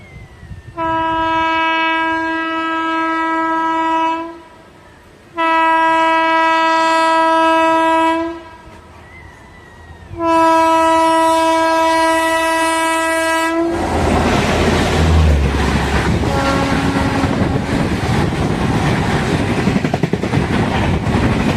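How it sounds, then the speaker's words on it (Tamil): A passenger express train bound for Mysore sounds long, loud horn blasts three times, then rumbles past on single-line railway track in India with a sustained roar and rattle of wagons, close and dominant. "தூத்துக்குடியிலேருந்து மைசூர் போகக்கூடிய அந்த எக்ஸ்பிரஸ்க்காக தான் நம்ம வெயிட் பண்ணிட்டு இருக்கோம்"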